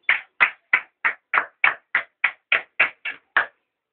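Rhythmic clapping at a church service as the congregation acclaims Jesus: about a dozen crisp, evenly spaced claps in a steady beat, with silence between them and no voices.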